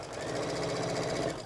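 A sewing machine stitches fabric in a steady, rapid mechanical whir with an even stitch rhythm, close and continuous for the whole moment, with no talking.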